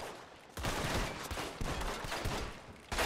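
Dense, overlapping gunfire fills the scene in the video game Red Dead Redemption 2 as shots pound a steel door, a sustained loud volley broken by one short gap before a final burst.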